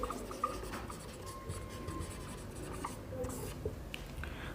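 Pen scratching numbers onto paper by hand, soft continuous scraping strokes with small taps, quiet and close, no talking.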